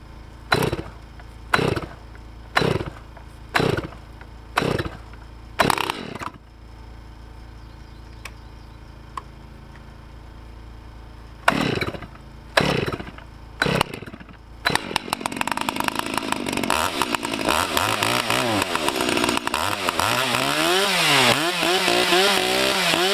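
A chainsaw at a cabin takes a series of sharp pull-start tugs, two bursts of them, then catches and runs loudly and continuously with uneven revving.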